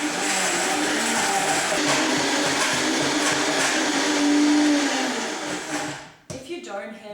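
A blender whirs continuously through Christmas pudding mixture, a loud, steady motor drone that swells slightly in pitch and power before cutting off abruptly, followed by brief clattering.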